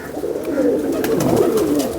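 Pigeons coo in soft, repeated rolling calls close by, steady and fairly loud, with faint ambient noise around them.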